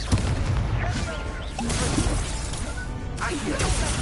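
A Confringo spell blast in a video game, a loud crashing explosion with shattering bursts and booming rumble that fills several seconds, while combat shouts and other effects sound around it.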